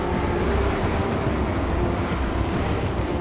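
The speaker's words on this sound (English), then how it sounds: "The GT40 is furiously fast." A Ford GT40 race car roars steadily at speed, a loud continuous engine drone with no pauses and no speech.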